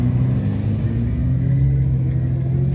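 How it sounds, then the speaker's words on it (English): A Chevrolet Corvette performance car drives nearby at a car meet, its engine giving a steady, low rumbling drone with no clear shifts or breaks. "there's Stefan in his Corvette"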